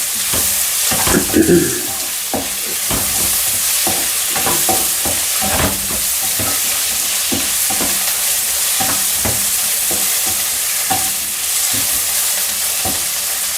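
Egg curry being stirred in a non-stick pan sizzles steadily up close. A utensil scrapes and taps the pan in a loose, repeated rhythm.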